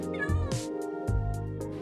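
A cat meows in the Minecraft video game, two short tonal calls at close range. Game sounds and other noise sit underneath.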